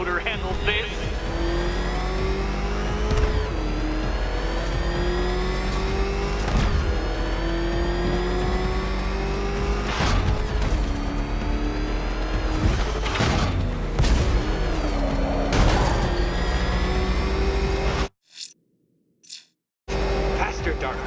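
The Batmobile in Batman: Arkham Knight roars and revs loudly and continuously, pitch climbing and dropping through gear shifts, with thuds and a voice speaking over the engine, then a brief near-silent gap before it resumes.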